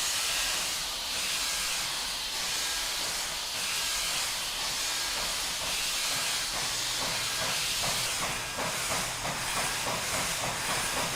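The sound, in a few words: Frisco 1500 steam locomotive chuffing and hissing steam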